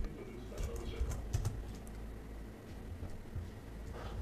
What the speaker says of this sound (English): So we type, let's say, pass,